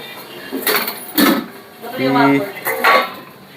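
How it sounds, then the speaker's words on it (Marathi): Metal pots and dishes clatter in a home kitchen where okra and bhakri were cooked, with several bright clanks and a short ringing scrape between bursts as voices talk nearby. "पातेले टाकले भेंडीवर"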